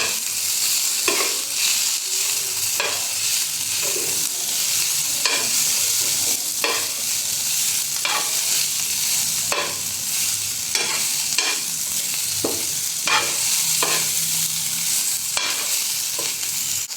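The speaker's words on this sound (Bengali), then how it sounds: "এই তো আমি তেলে দিয়ে দিচ্ছি এটা এখন একটু ভেজে নেব হালকা" Onion frying lightly in mustard oil in a pan: a loud, constant close sizzle with repeated stirring scrapes and taps at an irregular rhythm, heard alone without talk.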